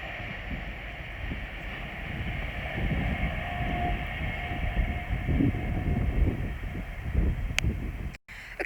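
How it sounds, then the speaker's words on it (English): LNER Azuma express passing through Hitchin station on the East Coast Main Line, a low rumbling rush of wheels that swells and rolls steadily past, heard from the platform with some wind on the microphone. "there is an LNER Zuma working service from Edinburgh Waverley to London King's Cross, about to pass by."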